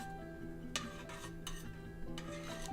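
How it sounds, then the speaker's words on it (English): Pickling liquid for vegetable pickles is stirred in a container beside packed jars, making several scraping, clinking strokes of a utensil against the vessel at close range over a steady low hum. "So I'm gonna go ahead and stir this up"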